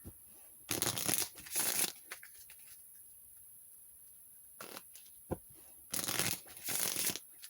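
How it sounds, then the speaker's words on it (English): Two brisk bursts of a tarot card deck being riffle-shuffled, close and crisp, separated by quiet pauses with a few faint handling taps. "a couple more shuffles"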